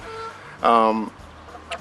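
Geese honking outdoors in the south of France: one loud, harmonic honk rings out for about half a second, with faint background sound and a brief softer call near the end.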